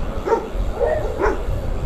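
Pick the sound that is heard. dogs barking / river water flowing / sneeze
dogs barking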